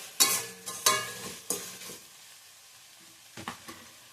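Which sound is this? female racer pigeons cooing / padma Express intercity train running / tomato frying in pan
tomato frying in pan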